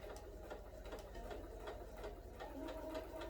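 Sewing machine starting to stitch as thread is held and fabric guided, a quiet, even run of rapid mechanical needle clatter with a low motor hum throughout.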